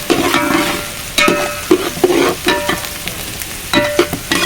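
Two kilograms of fish pieces in oil with green chilli, cooking for a Telangana-style fish curry, with steady close sizzling and frying broken by repeated stirring scrapes and clatters against the pan, and no talk.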